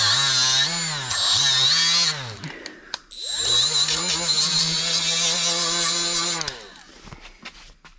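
A power tool strips paint from an edge beside a weld on a 4L80E transmission, running loud and close with a harmonic whine that drops in pitch as it loads up, pausing briefly near the middle before a second long sustained pass.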